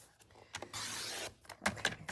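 Electric cutting machine cutting a bike shape from paper, a faint motorized whir running in short bursts with small clicks and rubbing between them.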